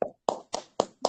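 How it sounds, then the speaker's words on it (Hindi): A few sharp, separate hand claps land in an even rhythm, five crisp strikes close by with silence between them, like the opening beats of a welcome applause at a meeting. "तो जोरदार तालियों से स्वागत करेंगे"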